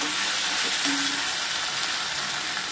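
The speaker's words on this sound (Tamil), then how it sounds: "ட்ரை ஆகி அந்த சிக்கன்லாம் கொஞ்சம் கிறிஸ்பி ஆகும்." Chicken pieces fry toward crispness in a pan, a dense, loud, unbroken sizzle with faint stirring under it and no voices.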